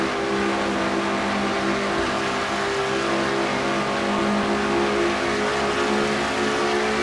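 A race car engine heard from an in-car camera during a simulated NNSCRA Castrol GTX Cup stock car race on the mile-and-a-half Atlanta speedway: a steady, loud, droning high-speed engine roar that continues without a break.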